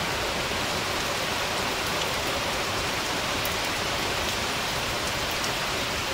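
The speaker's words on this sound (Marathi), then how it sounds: "केवढा मोठा पाऊस आलाय बघा." Heavy monsoon rain pours down in Maharashtra as a dense, constant hiss of drops drumming on surfaces, loud and unbroken for about six seconds with no one speaking.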